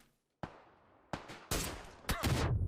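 Gunfire and grenade blasts in the PUBG battle royale game, during a console league esports match: four sharp, loud bursts arrive at uneven intervals, each a broadband crack with a decaying tail, the final ones heavier and sustained, with no talk over them.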